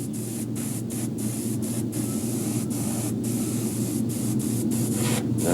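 An airbrush sprays paint onto a largemouth bass mount in a steady close hiss, broken by several brief pauses as the trigger is released, with a low hum underneath and no voices.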